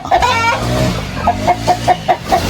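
Free-roaming chickens cluck and crow nearby outdoors, with a longer call at first and then a steady series of short, evenly spaced clucks, loud and close with no voices.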